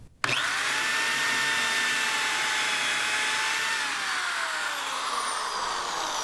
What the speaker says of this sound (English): stick the bit all the way so it touches the wood and then turn it on full blast and just go through here